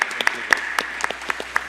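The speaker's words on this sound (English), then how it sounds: "Can we please give these gentlemen a round of applause?" An audience at a panel event on building an electric-vehicle ecosystem in the UAE gives short, scattered applause, with a handful of distinct, fairly close claps spaced irregularly over a couple of seconds.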